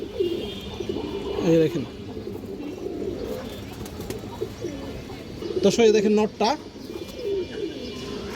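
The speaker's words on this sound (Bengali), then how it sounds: "ওই রয়েছে পাল্লা লাইনের মুসলদম কবুতর" Pāllā-line Muslodom pigeons give repeated throaty coos, loud and close, with a strong burst near the end, while someone talks over them.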